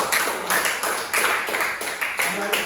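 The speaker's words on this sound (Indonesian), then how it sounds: "Tepuk tangan buat kelompok 1" A classroom group claps for classmates after a presentation: brisk, rhythmic bursts of hand clapping in quick repeated pulses, fairly close and moderately loud, with some voices in the background.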